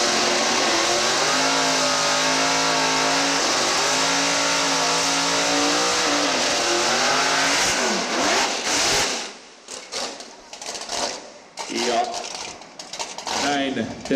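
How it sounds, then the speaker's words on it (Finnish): A drag racing car accelerates hard down the strip at a Finnish drag racing event, a loud, rising engine roar that holds steady, then drops off as the car recedes, followed by broken, fading engine noise with an announcer talking over it. "tästä on tulossa kilpailija autolla"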